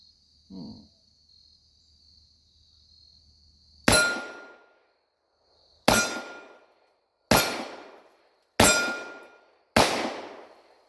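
A Ruger LCR .38 Special revolver fires five PMC bronze 132 grain ball rounds outdoors, loud sharp reports spaced one to two seconds apart, each trailing off in a brief echo, after a quiet start with faint insect chirping.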